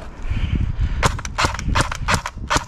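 Airsoft guns fire from the front during a live outdoor war-style game, a quick series of sharp, snappy cracks in an uneven rhythm, loud and close, following a brief stretch of low rumbling background.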